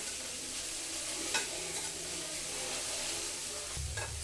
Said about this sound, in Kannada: ತುಪ್ಪದಲ್ಲಿ ಘಮ ಘಮ ಅನ್ನೋವರೆಗೂ ಹುರಿತಾ ಇರಬೇಕು.